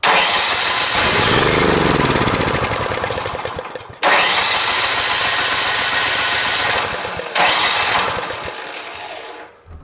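A snow blower's small engine sputters and catches, then roars loudly with a rough, steady drone, cutting out briefly and restarting twice.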